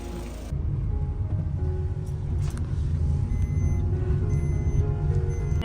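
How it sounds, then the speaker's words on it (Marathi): A vehicle drives up close across a farm field, its steady engine rumble and road noise loud and continuous after a brief start, with no talk. "माझ्याकडे माझ्याकडेच आणतोय गाडी"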